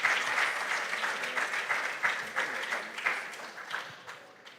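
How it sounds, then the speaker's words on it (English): An audience at a national junior science and maths quiz championship gives the contestants a sustained round of applause, many hands clapping at once in a lively, slightly pulsing wash that fades a little toward the end. "Can we give them a resounding round of applause?"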